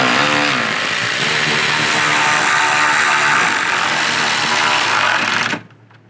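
A power tool whirs steadily while tightening headlight screws on a 2010-2016 Buick LaCrosse, one loud continuous run that cuts off abruptly near the end.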